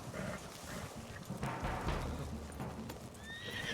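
A horse in a video game gallops with steady clip-clop hoofbeats and lets out a neigh near the end, loud and continuous against a busy game soundscape.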